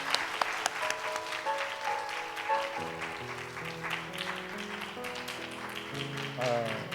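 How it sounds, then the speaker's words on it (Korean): A church congregation claps during a Sunday service greeting, a lively round of applause under sustained organ or keyboard chords that enter partway through and carry on beneath it. "인사하실 때 박수 한 번 더 하겠습니다."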